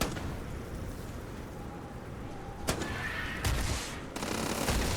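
Gunfire in the space game Starfield near a high platform, with a loud broadband shot around the midpoint followed by several more bursts, set over a constant low hum.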